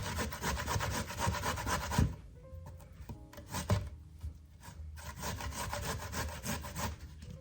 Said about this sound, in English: Normally what I do is I just grate my zucchini straight in my bowl first.